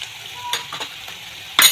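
Onion and garlic paste with spices frying in a pan, stirred with a utensil: a steady soft sizzle with a few scraping strokes and a louder clatter near the end.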